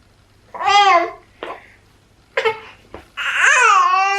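A baby fusses and babbles in several short bursts of whiny, rising vocal cries with pauses between, close and fairly loud, with no adult talk over them.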